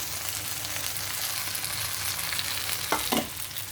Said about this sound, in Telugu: ఇదిగోండి పోపు వేగిపోయింది కదా